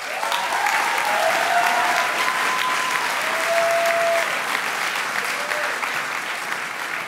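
Audience at a school leavers' ceremony applauding departing staff, steady full clapping throughout with a few faint tonal sounds underneath.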